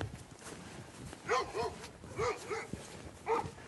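A small dog barks in a short series of sharp yaps outdoors in rural countryside, heard at moderate distance over a steady background hiss.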